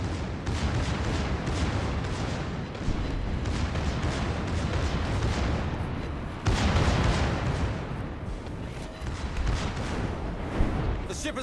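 Battleship secondary guns fire continuously in a naval combat video game, a dense wash of booming shots and explosions that runs without a break and surges louder partway through.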